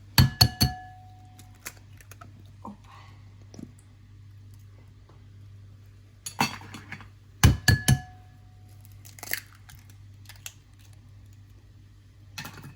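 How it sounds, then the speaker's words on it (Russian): Five eggs are cracked into a bowl for a sponge cake batter, with sharp clicking taps of shell against the rim and small wet sounds, spaced out in several clusters with quiet pauses between. "Разбиваем 5 яиц."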